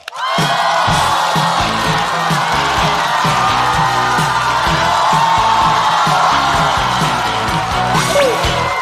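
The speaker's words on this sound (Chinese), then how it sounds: "掌声欢迎毛豆" A studio audience at a stand-up comedy show welcomes comedian Mao Dou with loud, sustained cheering, whooping and applause that holds steady throughout.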